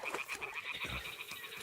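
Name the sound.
toads croaking, video game Kingdom Come: Deliverance II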